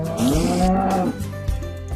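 A single loud, close cow moo in Minecraft, drawn out and low, sounding slightly synthetic, with no speech.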